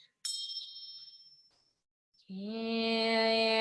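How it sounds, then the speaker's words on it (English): A small bell is struck once and rings with a clear, high, steady tone that fades, followed after a short pause by a bright sustained ringing tone rich in overtones. "Now with the bell."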